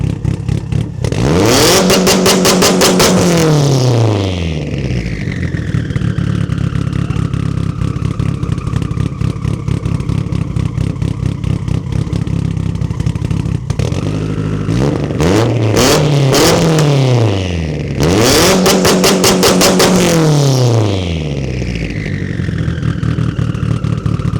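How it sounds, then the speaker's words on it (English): A loud Mitsubishi Lancer Evolution VIII exhaust revving hard in repeated bursts, climbing sharply and dropping back to a rough idle between throttle blips. "we have to get some exhaust sound clips that are gonna be loud and obnoxious"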